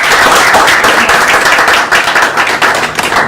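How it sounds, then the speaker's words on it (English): Audience applause at a Maryland state delegate candidate forum on the African diaspora running for office, a dense, steady wash of many hands clapping close and loud throughout. "A round of applause."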